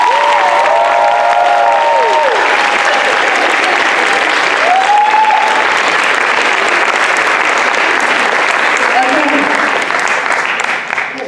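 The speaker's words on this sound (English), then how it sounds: "Can we give one more round of applause for our seniors?" A crowd gives a long, loud round of applause for seniors at a show's bows, with whoops and cheering voices over the steady clapping, which tapers off at the very end.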